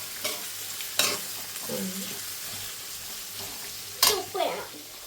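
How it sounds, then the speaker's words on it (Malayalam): A spoon stirs clam meat curry in a pan, with a few scraping strokes and sharp taps against the pan over a quiet background sizzle. "നമുക്ക് ഇളക്കാം."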